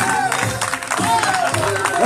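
A crowd applauds and cheers for trail runner Cátia Roque at the finish of the Coimbra Trail 2019, loud continuous clapping mixed with cheering and voices nearby.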